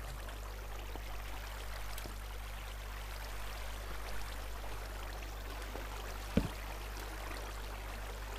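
Waterfall of flowing water in the Minecraft video game, a soft steady rushing stream sound running continuously and faintly, with a brief low thump partway through.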